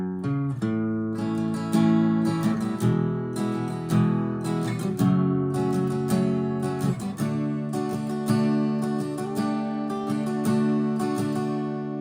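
Guitar picking out the intro of a song, a steady rhythm of strummed and plucked chords with bright attacks, played alone and up close.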